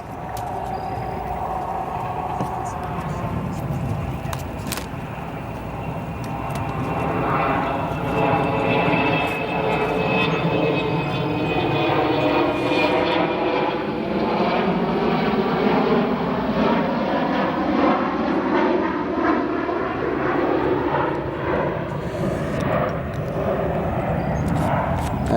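A Delta Boeing 717 jet, 24 years old and originally delivered to AirTran in 1999, departs O'Hare airport, its engine roar swelling into a loud, steady rumble with a high whine and slowly sweeping tones as it climbs away.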